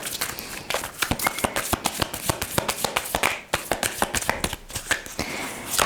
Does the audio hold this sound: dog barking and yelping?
no